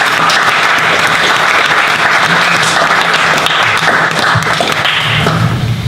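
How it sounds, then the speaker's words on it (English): Audience applause at a Brisbane tech meetup after talks, a lively, continuous round of clapping from a roomful of people with some sharper individual claps standing out. "Big round of applause."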